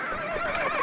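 A horse neighs, close and loud, in a single short whinny that rises and wavers in a steady alley setting.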